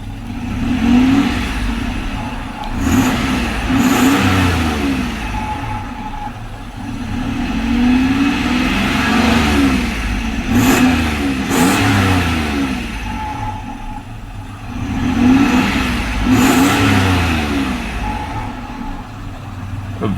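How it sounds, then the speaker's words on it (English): A 1994 Toyota T100 DX pickup's engine runs close by with a steady, smooth drone that swells and eases in broad waves as it revs, heard alone without any talking. "A very smooth running engine."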